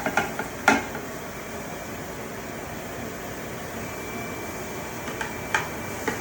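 A spoon scrapes and clinks against a pan while scooping out food, giving a few faint taps and scrapes over a steady soft hiss of background noise.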